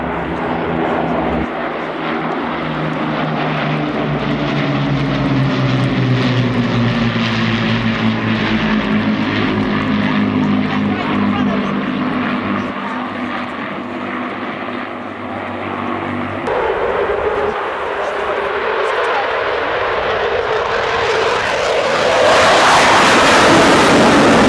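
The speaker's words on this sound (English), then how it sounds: "The arrival from the Royal Air Force, the Battle of Britain Memorial Flight." Vintage propeller warbirds of the Royal Air Force Battle of Britain Memorial Flight roar overhead at an airshow, piston engines droning loudly and building as they pass, then swelling again near the end; no speech.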